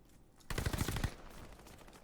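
Dual Marco 5 submachine guns fire in Call of Duty: Vanguard, one loud rapid burst of about a half second of rattling shots with echoing tail, alone without talk.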